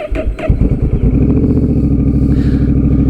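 A Honda Rebel 1100 with an aftermarket TBR exhaust rumbles loudly and close while riding, a deep throaty exhaust burbling steadily after a few brief clattering knocks at the start.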